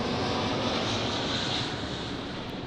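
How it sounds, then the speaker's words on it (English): Airplanes passing overhead above a street in Ghana give a loud, steady, broadband roar that holds almost unchanged throughout, with no one speaking. "there's planes flying over and stuff"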